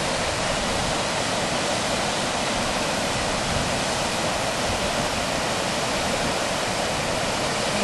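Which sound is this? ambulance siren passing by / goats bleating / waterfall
waterfall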